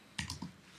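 A short burst of two or three quick keystrokes on a computer keyboard, close but quiet, with nothing else around.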